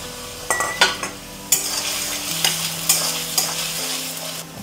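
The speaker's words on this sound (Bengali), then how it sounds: "আলুগুলো আমি ভেজে নেব আগে।" Potatoes fry in mustard oil in a wok with a bright, crackling sizzle, broken by several clanking stirs and scrapes of a spatula against the metal, close and fairly loud with no talking.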